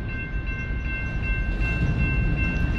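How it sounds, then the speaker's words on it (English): A CSX freight train's locomotives run in Nashville with a steady low diesel rumble and rolling rail noise, plus a faint sustained horn-like tone, continuous and moderately distant with no talk. "I think they only have three locomotives online, if I'm not mistaken."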